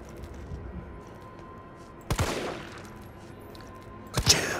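Two separate gunshots from the video game Resident Evil 3 Remake ring out a couple of seconds apart, each a sharp crack with a short tail, over a low, steady game ambience.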